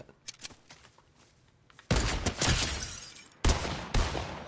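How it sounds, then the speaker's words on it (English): Gunfire in the video game Fortnite, with a sharp, loud sniper-rifle-style crack cutting in suddenly after quieter rustling, followed by another heavy blast and echoing tail. "Someone just got sniped."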